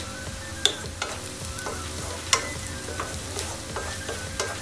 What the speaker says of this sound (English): Now you can add your bay leaves